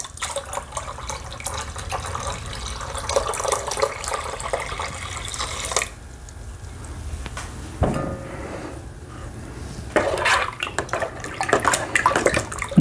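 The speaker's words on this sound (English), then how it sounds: "Now I'm stirring again because I want everything to mix well, plus I'm adding air into the must." Mead must being stirred in a bucket, giving a continuous watery swishing and sloshing that stops briefly partway through, then picks up again with splashier strokes near the end.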